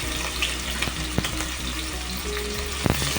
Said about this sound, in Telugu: వేడెక్కిన తర్వాత ఆనియన్ వేసేద్దాం.